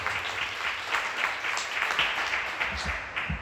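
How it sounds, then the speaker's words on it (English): An awards ceremony audience at the Louisville Dirt Bowl Hall of Fame claps in a sustained round of applause, full and steady, with individual claps standing out now and then. "Another round of applause for the great Mr."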